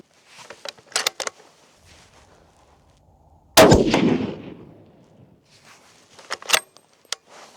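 A single sharp rifle shot cracks out loudly at close range while a Hawke scope is being sighted in, its report trailing off for about a second, with scattered metallic clicks and handling noises before and after.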